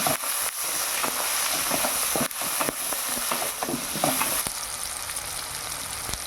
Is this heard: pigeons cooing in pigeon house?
no